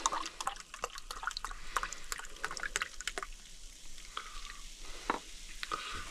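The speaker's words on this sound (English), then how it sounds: "Let's pour a Sainsbury's cider." Sainsbury's cider is poured into a glass, producing a close, bubbly liquid stream with fizzing, crackling pops and a few clinks, fairly quiet and with no talking.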